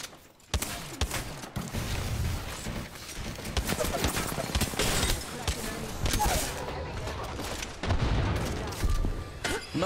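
Grenade blasts and rapid gunfire fill a busy Apex Legends match, with dense overlapping shots and booms, loud and close, while players talk over the action.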